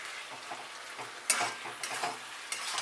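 Paneer chilli being stirred and mixed as it fries in a pan, with steady soft sizzling, scraping strokes and a few sharp clinks of the utensil against the metal.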